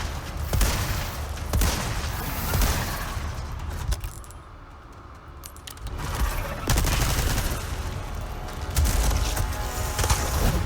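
Heavy gunfire aimed at a boss's weak spot in the video game Resident Evil 4 Remake, with dense volleys of shots broken by a brief quieter lull midway before the shooting resumes loudly.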